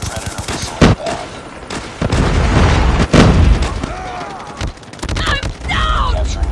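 In a first-person shooter video game, a Predator missile strike lands with loud booming explosions and bursts of gunfire around them, heavy low rumble swelling and falling through the stretch, with game voices calling out over the noise.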